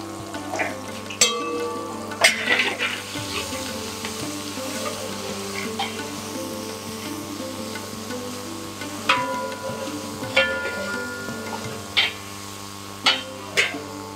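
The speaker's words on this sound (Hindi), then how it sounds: "हमने डाल दिया अदरक लहसुन का पेस्ट हमारा।" Ginger garlic paste frying in a pot for Delhi-style nihari gives a steady, close sizzle with a few clinks of a spoon against the pot.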